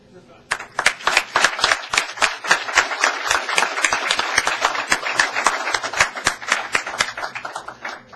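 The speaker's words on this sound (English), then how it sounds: "The applause lasted till he got up here." An awards ceremony audience breaks into sustained applause, dense overlapping claps that start abruptly and keep going at an even, lively level throughout.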